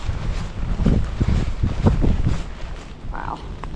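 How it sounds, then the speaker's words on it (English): Gusty wind buffets the microphone on a forest hiking trail, with low rumbling surges that rise and fade over a few seconds. "Wind picked up."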